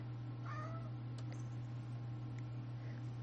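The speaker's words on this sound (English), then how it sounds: "That was the cat." A cat gives a short, faint meow, followed by a few soft ticks, over a loud steady electrical hum in an indoor room.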